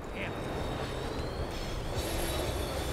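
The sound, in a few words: tram slowing down in video game Max Payne 3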